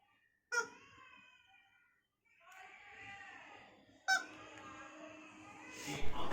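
A squeaky toy chicken lets out a few honking squawks, each a loud burst trailing off, separated by short pauses.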